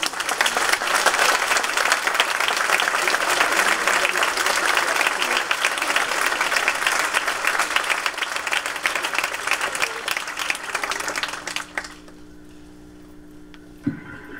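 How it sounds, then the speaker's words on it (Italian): Sustained applause from a school audience after a live link with an astronaut, loud and dense for most of the stretch before cutting off abruptly into near silence. "un applauso per Samantha"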